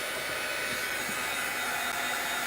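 A hair dryer blows steadily to dry freshly stamped ink, a constant loud whooshing roar that fills the whole stretch without pause or talk.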